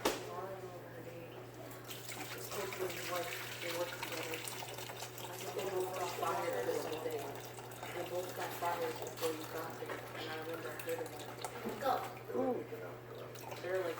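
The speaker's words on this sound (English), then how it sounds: "But I'm going to pour the juice off this chicken." Juice poured off a pan of baked chicken in a kitchen, a soft continuous trickling and splashing of liquid that runs throughout while a person talks over it.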